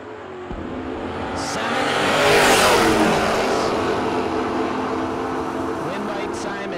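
Drag racing launch of a Camaro and a Mustang side by side at a no-box bracket race: a loud, broadband engine roar swells to a peak and then holds steady as the cars pull away, with a commentator's voice running over it.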